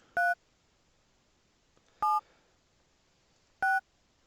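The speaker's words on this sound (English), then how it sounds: "by dialing the letters of a person's name" A phone dial pad emits three separate DTMF key tones, each a short clean dual-pitch beep, spaced irregularly about two seconds apart over quiet background, with no speech.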